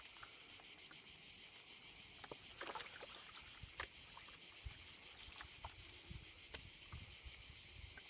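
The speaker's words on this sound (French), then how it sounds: "on les entend, hein, les cigales" Dense, steady cicada buzzing fills the air outdoors beside a river, with faint scattered knocks and splashes beneath it and no voices.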